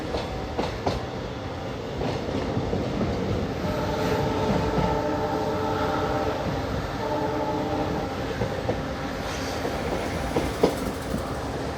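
A train crosses the New Pamban rail bridge with a loud, steady rumble of wheels and carriages, rhythmic clatter and a few sharp knocks throughout, with no talking.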